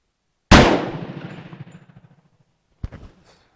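A single loud shot from a Hakim rifle cracks nearby and rings off into a long decaying echo, followed a couple of seconds later by a brief metallic clack of the action.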